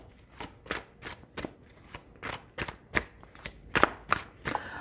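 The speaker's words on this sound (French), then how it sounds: "Je vais remettre une carte d'ailleurs avec ce 5 de bâton." Tarot cards, including the five of wands, are laid and slid onto a table in a series of soft, quick papery swishes and taps, about a dozen close strokes in an uneven rhythm, fairly quiet.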